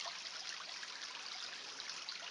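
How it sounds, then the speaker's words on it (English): A small woodland creek in Alabama timber country, flowing like a trout stream, a steady soft babbling trickle that stays continuous and faint with no talking. "That looks like a North Georgia trout stream."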